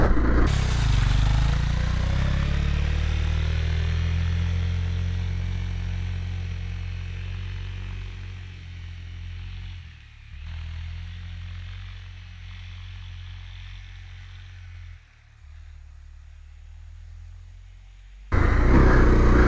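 A Honda CRF250L dual-sport motorcycle rides through snow: a close, steady engine drone holds for about nineteen seconds, with a couple of brief dips and a louder surge at the end.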